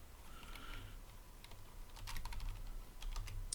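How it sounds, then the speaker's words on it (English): Close, quiet typing on a computer keyboard, a run of light irregular clicks that quickens toward the end, with soft room noise underneath. "you're typing and I'm drinking"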